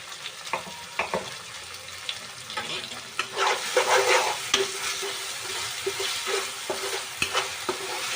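Tomatoes and masala for a Mumbai-style egg bhurji fry in a pan with a steady sizzle while a spoon scrapes and stirs in repeated close strokes, loud and with no one talking.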